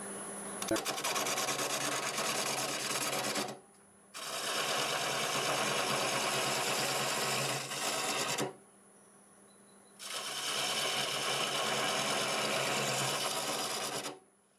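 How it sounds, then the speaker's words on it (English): A wood lathe cuts a tenon on a turned piece in three long, loud passes of rough scraping, broken by brief quiet gaps between them. "Alright, I've marked this for a tenon, I'll go ahead and get it cut on there."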